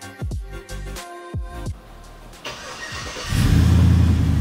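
A pickup truck engine cranks with a few rhythmic starter turns, catches, and settles into a loud, steady idle, heard close up with no talking.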